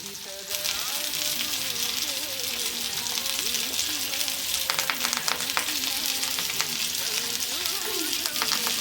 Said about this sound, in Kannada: ಈಗ ಫ್ರೈ ಮಾಡುವ.